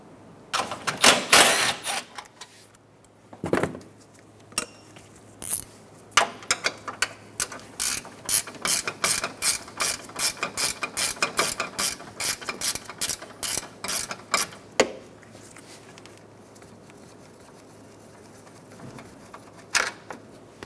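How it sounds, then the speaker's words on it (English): A hand ratchet backs out 10mm bolts from the upper radiator support of a 2014-2019 Toyota Highlander, giving rapid, even metallic clicking in long bursts with short pauses, close and clear, no talk. "Remove the 4 10mm bolts out of the upper radiator support"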